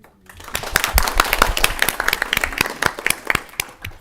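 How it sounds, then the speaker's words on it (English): Audience applause breaks out in a legislative committee meeting room, a dense patter of many hands clapping at once, building quickly and holding steady at close range for several seconds. "we don't normally have applause in a committee meeting. So I'm going to ask the audience to refrain from applause"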